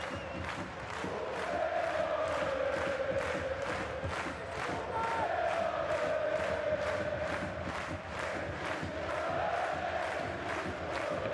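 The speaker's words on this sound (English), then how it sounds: "listen to the 1860 Munich supporters cheer on their fans as the 3 points are beyond doubt" 1860 Munich supporters chant and cheer in unison at the Grünwalder Stadion during a third-division match against Energie Cottbus, a rhythmic, pulsing crowd chant with regular beats, steady and sustained throughout.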